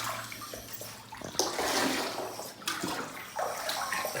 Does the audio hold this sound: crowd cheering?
no